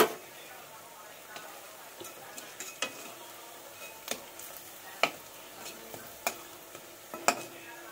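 Muitha dumplings fry in white cooking oil in a pan, a low steady sizzle broken by sharp scraping clicks of a spatula at irregular intervals, close and moderately quiet.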